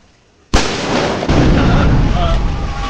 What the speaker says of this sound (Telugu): లైటింగ్స్ ఇంకా ఆ బాంబ్ ఆ సౌండ్స్ అసలు మామూలుగా లేదనమాట